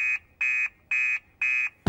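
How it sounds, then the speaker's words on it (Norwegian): A cartoon fire station alarm sounds four times in a steady on-off rhythm, each shrill buzzing tone lasting about a quarter second, loud and close, followed by a sudden burst of noise at the end. "Alarmen går!"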